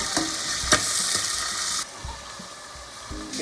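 Beef and onions fry in olive oil in a pot for stew, a close steady sizzle with stirring scrapes and clinks, the hiss dropping sharply partway through as the pan settles.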